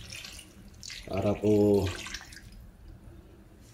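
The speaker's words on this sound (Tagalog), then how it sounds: "Lagyan na rin po natin ng kaunting tubig" A little water is poured into a cooking pot of adobo on the stove, a brief close splashing gush lasting under a second, with someone speaking briefly around it.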